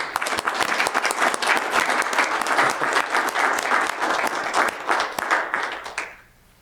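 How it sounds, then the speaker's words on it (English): Audience at a Weber County government meeting applauding an honoree, a lively round of crisp, close individual claps that holds steady for several seconds and then quickly fades out. "Let's give her a round of applause."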